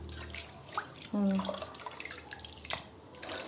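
Water poured a little at a time over wheat grains in a pot while washing off the husks, a brief splashing pour near the mic amid small drips and kitchen clatter.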